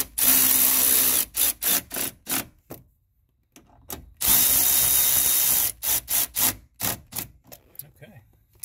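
Power drill driving screws into a plastic front-door speaker mount on a 1997–2002 Chevrolet Camaro with the Monsoon system, in two long whirring runs followed by short stop-start bursts, close by.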